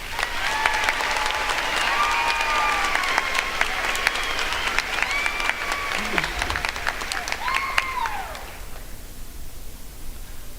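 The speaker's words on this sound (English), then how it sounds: "Let's show our appreciation for their courage and commitment with another round of applause." Graduating-class audience at a high school ceremony gives a loud, dense round of applause with whistles and cheers in a large hall, sustained for about eight seconds before dropping away to quiet room tone.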